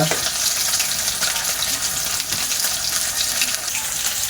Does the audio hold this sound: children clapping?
no